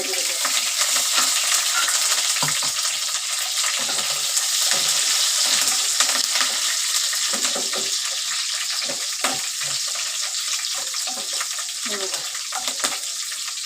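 Rice and dal for a dal khichdi roasting in a hot pan, with a steady, close sizzling and frying hiss and occasional stirring scrapes throughout.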